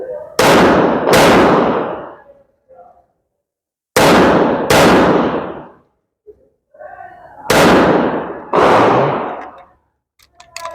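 Pistol shots fired with a tungsten recoil setup crack out in close pairs, six loud sharp reports in three double-taps, each ringing briefly before quiet gaps filled with faint voices.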